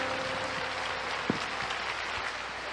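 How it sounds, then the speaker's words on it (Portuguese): A church congregation applauding: dense, steady clapping from many hands spread across the room, continuous and moderately loud with no voices over it. "Dá um aplauso bem forte a Jesus."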